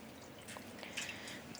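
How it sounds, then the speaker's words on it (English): Water dripping and trickling from hand-squeezed, freshly dyed yarn, a faint wet patter of quick drips over about two seconds with no talking. "I'm going to squeeze out the water."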